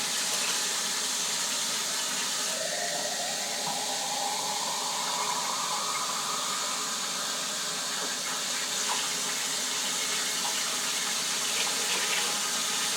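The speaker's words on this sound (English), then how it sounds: "Now we just need some water." Tap water runs steadily into a 3-ounce measuring glass in a home kitchen, a continuous close splashing rush with a faint rising fill tone and no talking.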